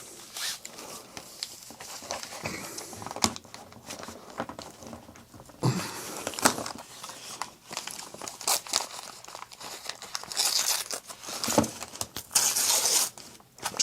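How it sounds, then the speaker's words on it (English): A peppermint New Zealand candy wrapper is torn open and handled close up, giving continuous crinkling and ripping with sharper tearing bursts toward the end. "Just going to rip the wrapper a little bit."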